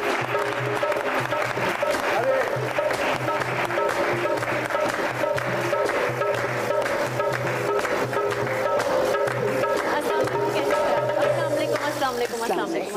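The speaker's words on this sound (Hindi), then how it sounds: "बहुत सारी तालियों" Studio audience applauding warmly for a talk show's guests, a dense, loud, continuous clatter of clapping that runs steadily throughout.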